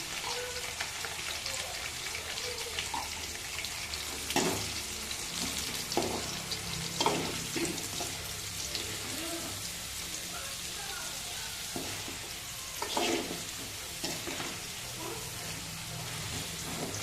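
Lentils fry in hot oil with asafoetida for temple-style tamarind rice, making a continuous close sizzle broken by occasional scraping stirs.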